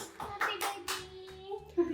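Hands clap a few times for a young girl's birthday, soft and close, mixed with the voices of people and someone talking.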